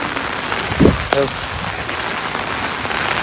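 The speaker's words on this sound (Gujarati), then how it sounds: "વરસાદ સારામાં સારો બહુ જ પડે છે" Heavy wind-driven rain pours down in a steady, close roar, with a couple of brief voice sounds near the start.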